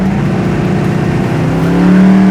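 A 1971 Chevelle SS engine revs under partial throttle, heard as a loud, close, steady rumbling drone that rises in pitch toward the end, with no talking.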